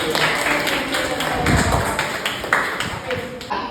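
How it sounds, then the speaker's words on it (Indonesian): Applause from a student audience at a campus outreach session on sexual harassment and violence, a dense broadband patter of many hands lasting several seconds with voices mixed in. "Tepuk tangan dong buat Rati"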